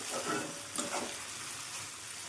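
Potatoes frying in a pan on a low flame after salt is added, a soft continuous sizzle with a few scraping stirs early on, faint and close, with no talk.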